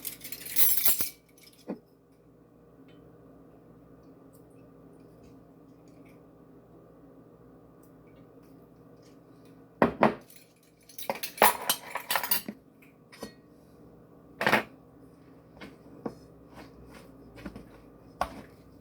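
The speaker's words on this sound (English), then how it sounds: "Then we stir in the 5 ounces of cream cheese and 2 tablespoons of rice vinegar." Cream cheese and rice vinegar stirred into riced cauliflower, faint intermittent scraping and clinking of a utensil against a bowl in short bursts amid long quiet stretches.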